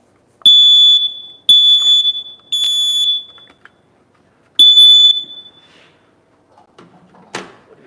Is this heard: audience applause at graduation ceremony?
no